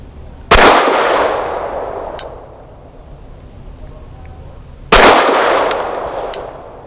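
Two loud, sharp shots ring out from a Glock 19 fitted with a ported barrel, firing 100 grain lead-free rounds, each crack followed by a long decaying ring, several seconds apart.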